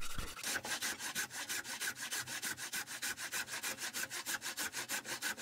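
A handsaw resaws a 1.5 meter long wooden board, giving a steady, even rhythm of rasping push and pull strokes close by, about four to five strokes per second, with no voices.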